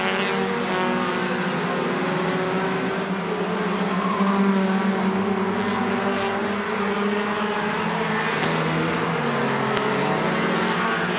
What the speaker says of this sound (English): McKnight trying to close in on the 50 of Kimball